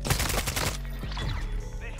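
Shotgun blasts ring out in a Call of Duty Modern Warfare 2 multiplayer match, loud and close, heavy booming reports packed densely in the first second, then fading game noise and a brief voice.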